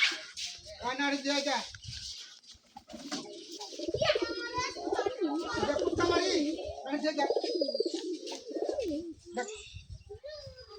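Pigeons coo in low, rolling calls throughout, mixed with nearby voices and someone talking over them.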